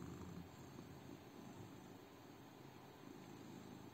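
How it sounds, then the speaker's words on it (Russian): A cat purrs steadily and softly up close, a continuous low rumbling hum with no talking over it. "А что ты мурлычешь?"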